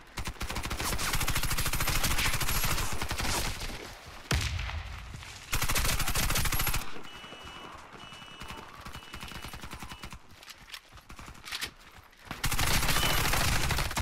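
Rapid automatic gunfire from rifles in the Warface video game rattles in loud sustained bursts, broken by brief pauses and quieter stretches of scattered shots.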